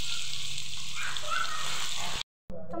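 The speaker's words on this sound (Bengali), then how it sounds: "তেলটা গরম হয়ে গেছে, তো আমি এবার চিংড়ি মাছটাকে ভালো করে ভেজে নেব" Prawns seasoned with salt and turmeric frying in hot oil, giving a steady close hiss of sizzling that cuts out briefly near the end.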